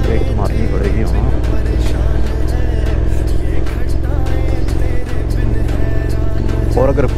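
Honda NC750S DCT motorcycle ridden over Honister Pass in the Lake District, coasting off the throttle: a steady, close engine drone mixed with constant wind rush throughout.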